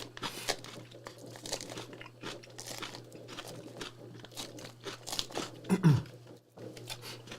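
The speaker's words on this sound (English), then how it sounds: "I guess you guys are hearing crunchy" Close, quiet crunchy chewing of a dish with banana peppers, eggs and cheese: irregular bites and crinkly crunches, loudest near the end.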